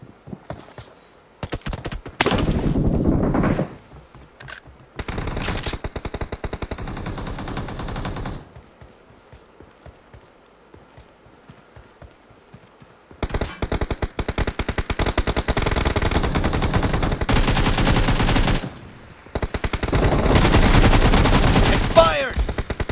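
Gunfire in PUBG Mobile, loud rapid automatic bursts in several separate stretches with quiet gaps between, close and harsh, with occasional voice callouts.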